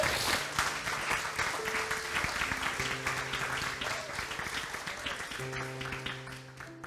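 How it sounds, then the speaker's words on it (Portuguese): Applause from a church congregation during a sermon about Jesus's resurrection, a steady wash of clapping lasting several seconds with sustained musical tones underneath, fading slightly toward the end. "Vamos aplaudir Jesus."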